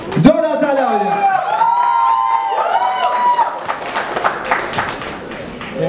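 A voice speaks over a hall at a TV dance show press conference, then a burst of clapping and cheering from a crowd rises in the final seconds.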